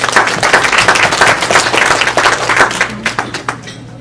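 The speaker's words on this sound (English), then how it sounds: "Can we give him another round of applause?" Audience applause at a Kenmore Kumon 2018 celebration: a crowd claps steadily and loudly, thinning slightly toward the end.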